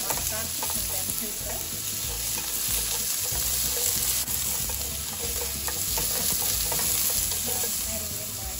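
Vegetables for vegetarian crispy noodles stir-frying in a hot pan, a loud continuous sizzle with steady scraping and stirring throughout, no voices.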